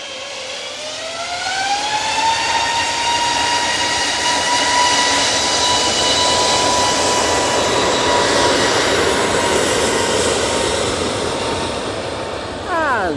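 Jet airliner departing Manchester Airport, a loud, sustained engine roar with a rising whine that climbs in pitch early on, then holds steady before fading slightly near the end.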